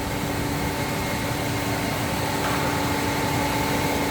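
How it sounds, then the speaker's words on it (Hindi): Drip irrigation pipe moulding machine running in a factory, giving a steady, loud mechanical drone with constant hum and tonal whine, unbroken throughout. "मेन मशीन यहाँ पर है, मोल्डिंग यहाँ पर हो रहा है।"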